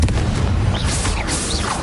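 A Bombarda blasting spell explodes in Hogwarts Legacy, a loud, full-bodied boom with a rumbling low end, followed by short whooshing, whistling magical tones layered over the sustained blast.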